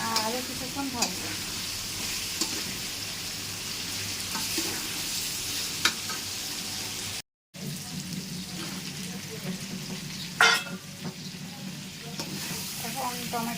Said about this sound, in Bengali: পেঁয়াজটা দিয়ে কিছুক্ষণ ভেজে নেব